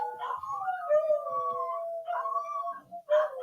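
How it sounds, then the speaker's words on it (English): Several dogs howl in long, wavering drawn-out cries that rise and fall, fairly close and loud, with a few short yips mixed in and a fresh howl starting near the end. "Can y'all hear the dogs howling?"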